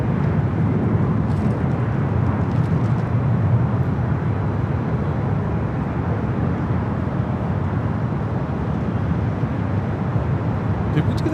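A CRJ 100 jet airliner arriving at LAX gives off a steady, broad engine roar that holds evenly from start to finish, with voices faintly audible underneath.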